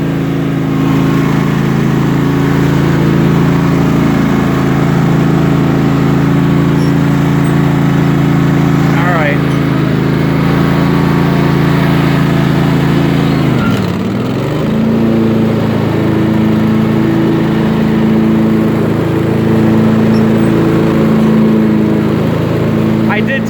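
A riding lawn mower fitted with a swapped-in Kohler Command engine idles loudly and steadily up close, its low mechanical drone holding throughout with one brief dip in speed midway.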